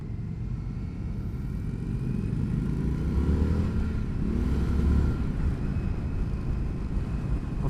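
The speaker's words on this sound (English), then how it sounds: "this one has an Akrapovic twin high exhaust" A 2021 Indian FTR S motorcycle with an Akrapovic twin high exhaust thrums with a deep, steady exhaust rumble that swells briefly as the throttle opens, then settles back.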